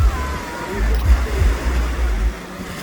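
Surf rumbling and washing in close by on a beach at Botolan, Cabangan or Liwliwa San Felipe, a steady low roar with swells surging every so often.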